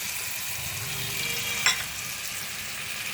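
Tomatoes frying in a hot pan, a steady, close sizzle with one brief clatter of a utensil against the pan partway through.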